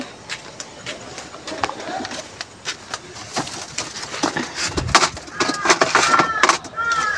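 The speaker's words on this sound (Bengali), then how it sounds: "এই 3টে পায়রা আছে আর 2টো পায়রাও বাইরে আছে" Soft, low pigeon coos repeat among rustling and shuffling noises nearby, with a voice talking over them.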